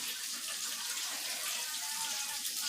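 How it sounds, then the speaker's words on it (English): Water pours from a pot of cooked pasta into a strainer in a kitchen, a steady, fairly close gushing rush with a faint voice underneath. "be very careful straining out this pasta"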